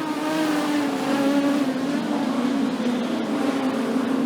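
Production sedan race cars roar off at the green flag at Kingaroy Speedway, a clay oval, with a loud, sustained engine drone that holds a steady pitch and fills the whole stretch.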